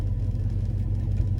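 An LS-swapped Chevrolet C10 truck drives in the rain. A steady, low engine rumble with a faint whir is heard from inside the cab, with no talking.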